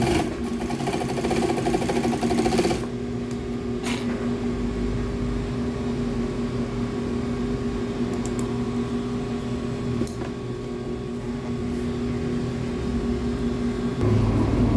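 A sewing machine test-stitches leather fabric, a close, steady motor whir with a rapid needle rhythm, including a brief louder burst at the start and a few small clicks and knocks later.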